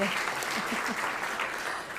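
Brief applause from an audience at an award gala for journalism, a steady wash of clapping with a faint voice or tones faintly underneath.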